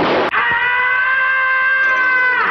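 After a brief noisy burst, a loud sustained human yell dubbed onto a cartoon cat in Tom and Jerry rings out, held steady for about two seconds, close and strained.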